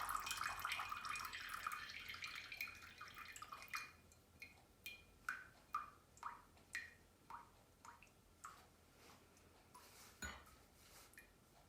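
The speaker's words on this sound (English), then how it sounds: "most of the water will drip out." Water drips out of a jar through fabric during a home pulp-fiber experiment: first a brief splashy run of water, then a steady series of about a dozen single close drips at an even pace, with no talk.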